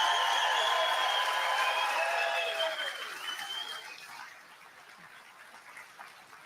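Audience applause fills a hall at an evening event, steady clapping mixed with whistles and cheers that gradually thins and fades to a quiet murmur.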